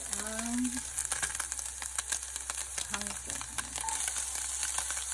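Kangkong sautéing in a pot for chicken soup, a steady broad sizzle with scattered clicks and scrapes of stirring, moderately close and continuous, with faint tonal sounds drifting through in the background.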